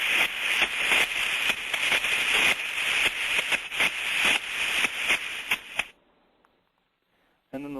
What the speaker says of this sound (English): If we have a trap that is motor boating or machine gunning, it's going to sound like this.